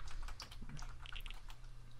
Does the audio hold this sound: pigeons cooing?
no